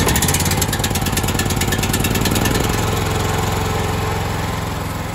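A small motor engine, like a lawn mower's, runs loud and close at a garden with greenhouses, chugging in a steady fast rhythm that eases slightly toward the end.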